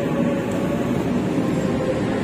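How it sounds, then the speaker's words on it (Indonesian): Gumarang passenger train standing at a station platform, a steady low rumbling hum of idling carriages and station ambience continuing throughout. "Nah, ini kereta api Gumarang."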